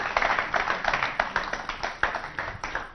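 A live studio audience claps for guest Mohammad Idrees Qureshi on a comedy show. The applause is steady and moderately close, with distinct overlapping claps and no voices.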